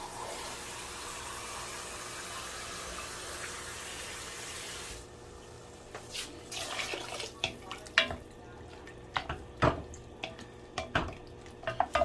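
Water pours into a cooking pot of pana (breadfruit) as a steady, fairly quiet rushing hiss for about five seconds, then gives way to scattered clinks and knocks of the pot and utensils.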